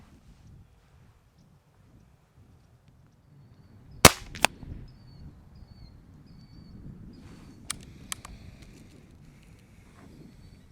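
A Benjamin Maximus .177 air rifle fires pellets outdoors at a 50-yard range: one sharp, loud crack, then a few quieter snaps a few seconds later, all over steady wind buffeting the microphone.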